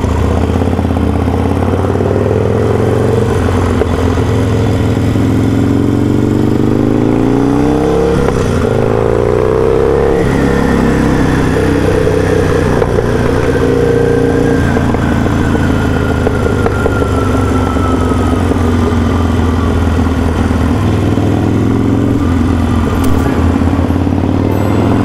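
A Harley-Davidson Sportster motorcycle engine runs steadily and loud up close, idling with some revving and a rising tone partway through, with no talk.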